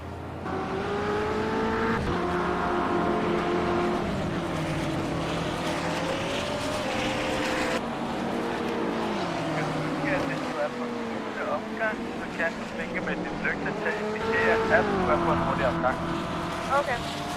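A BMW M6 race car lapping the Nürburgring during 12-hour endurance qualifying, its engine drone steady and loud with gear-shift pitch steps, while commentary runs over it throughout.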